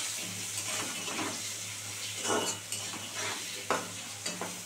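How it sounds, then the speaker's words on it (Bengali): Potatoes fry in a pan with salt and turmeric, giving a gentle continuous sizzle broken by louder scrapes and knocks of stirring against the pan. "নুন হলুদ দিয়ে দিলাম, এবার একটু ভাজা ভাজা হবে।"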